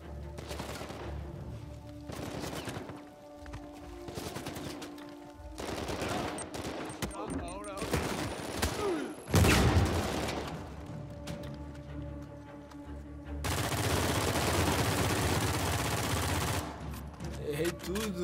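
Repeated gunshots in Uncharted 4 ring out in bursts, some rapid like automatic fire, with a loud blast midway and a person talking between volleys.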